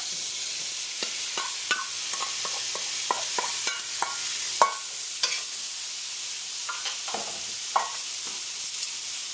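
Seasoned, marinated shrimp sizzle steadily in a pan of coconut curry while a utensil stirs them, scraping and clacking in a run of sharp taps over the constant frying hiss, with no talk.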